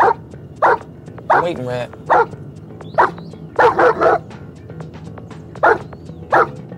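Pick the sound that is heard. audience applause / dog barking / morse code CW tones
dog barking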